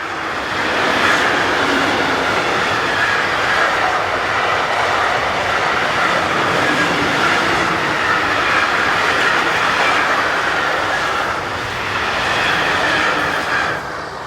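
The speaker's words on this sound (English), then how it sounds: "We were nearly caught out by this train headed by number 179 and 465006." A freight train from Basel to Domodossola passes close by on the BLS Thun–Kandersteg line in Switzerland, with loud, rhythmic clickety-clack of wheels over rail joints and occasional squeals, sustained throughout without any talking.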